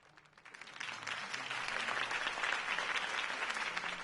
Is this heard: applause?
yes